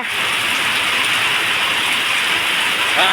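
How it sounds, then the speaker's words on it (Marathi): Steady, dense cloudburst downpour of rain in a village in May, hissing loudly and evenly throughout, close by, with no voices. "बघा पाऊस कसा पडतोय मित्रांनो"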